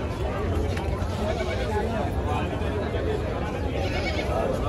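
Goats bleat among a dense crowd at a busy Sunday goat market on the Ahmedabad riverfront, their cries buried in steady chatter and general market noise.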